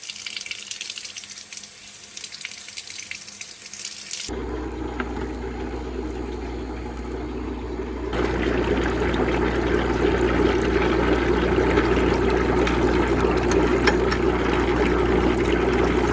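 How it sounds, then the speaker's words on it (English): Ranunculus corms are rinsed under a running tap, a steady rushing flow of water that grows louder and fuller partway through, close and continuous, with no voices. "The first thing I'm going to do with these is rinse them off really good before I soak them."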